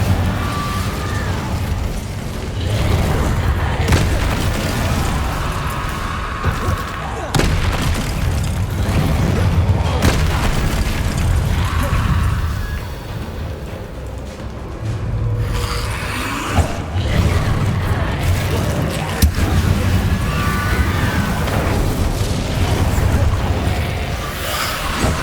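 Incendio fire spell cast repeatedly in the video game Hogwarts Legacy, loud whooshing bursts and booming fiery blasts that recur in a dense, rumbling stream with brief dips between casts.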